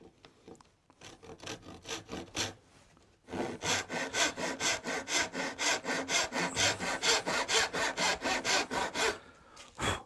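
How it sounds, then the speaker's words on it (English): Hand saw cutting the shoulder of an oak joint for a hall table, a few hesitant strokes, a short pause, then a long run of brisk, evenly paced rasping back-and-forth strokes, close and clear. "we're just about to cut the shoulder"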